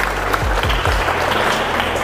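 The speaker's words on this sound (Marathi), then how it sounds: "सरांसाठी एकदा जोरदार टाळ्या." Loud, dense audience applause at a knowledge quiz show in Baramati, a steady roar of many hands clapping that holds for the full stretch, with a few low thumps underneath.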